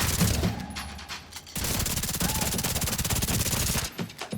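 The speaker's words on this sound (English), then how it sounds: "I am using the Chameleon behind cover." Chameleon rifle fire in a looter shooter game: rapid automatic bursts crackle close and loud, a short volley, a brief pause, then a longer sustained stream of rattling shots before cutting off.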